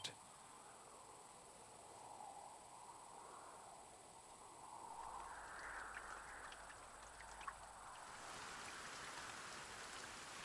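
Light rain falls steadily in the Dragon Quest I + II HD-2D Remake, a soft continuous patter that swells slightly midway and stays even throughout, with no voices.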